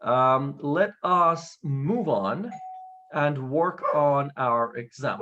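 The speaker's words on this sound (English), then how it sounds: "Someone just rang our doorbell." A doorbell rings in a home, with a brief high chime followed by a steady ding tone, clearly audible between and beneath a man's lecture speech.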